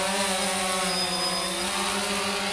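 A DJI Phantom 2 Vision drone hovers on its maiden flight with a steady, loud, close whine of spinning rotors, continuous and unbroken, with no talking.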